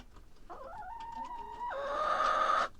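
A Rhode Island Red rooster gives one drawn-out, wavering call close by, rising and then holding on a strained, buzzy tone before stopping abruptly.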